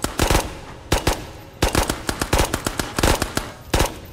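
Rapid gunfire in the VR shooter Ghosts of Tabor, loud close bursts of shots in quick clusters with brief gaps, no voices.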